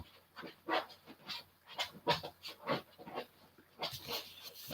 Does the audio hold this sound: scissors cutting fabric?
no